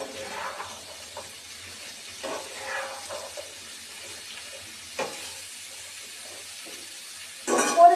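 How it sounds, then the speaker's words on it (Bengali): Sweet pumpkin is stirred into frying onions in a pan, with a faint, low sizzle and occasional soft scraping stirs, ending in a short louder burst of clattering and hiss. "এখন আমি মিষ্টি কুমড়াগুলো দিয়ে দিব। মিষ্টি কুমড়া দিয়ে একটু নেড়ে ছেড়ে দিব।"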